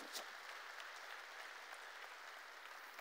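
A church congregation applauds together, a dense, even patter of many hands clapping at moderate distance, steady and unbroken with no voices over it.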